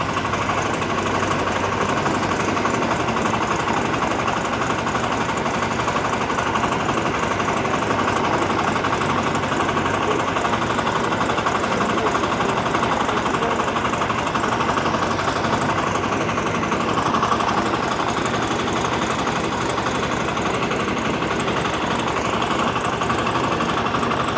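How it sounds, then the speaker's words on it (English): A concrete mixer runs on a house-building site in Jamaica, giving off a loud, continuous mechanical engine drone with rattling vibration that holds steady throughout, with no voices. "We got one guy working the mixer."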